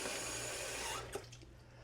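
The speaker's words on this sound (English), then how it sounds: "put water over it, and once it's covered, leave it sit for a minute" Water pours steadily over spaghetti in a pot, a broad rushing splash that cuts off abruptly, leaving a quiet hum and a small clink.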